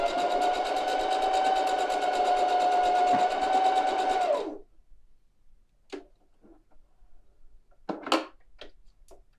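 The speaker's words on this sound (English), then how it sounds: "stitch around the rest of the shape, all at a 1/2 inch" A sewing machine runs a continuous stitching burst through wrap pants fabric for about four seconds, a fast, even whir, then stops, followed by quiet handling with scattered soft clicks and rustles.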